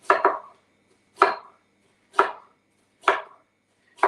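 Knife cubing food on a cutting board in a home kitchen: five distinct, fairly loud chops in a slow, even rhythm about a second apart, the first a quick double strike, with silence between.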